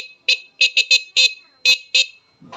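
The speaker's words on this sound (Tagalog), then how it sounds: "Ito na yung busina natin." Seven short, sharp beeps from an electric bike horn in an uneven rhythm, loud and close, with brief silences between them.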